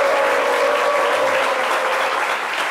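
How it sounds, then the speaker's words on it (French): A studio audience at a French midday television show claps loudly and continuously for a performer who plays harmonica, a dense, close, even roar of applause that holds at full level throughout with no talk over it. "Merci de l'applaudir très fort."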